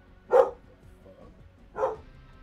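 A dog barking two times indoors, each bark loud and close, separated by about a second and a half of quiet background hum.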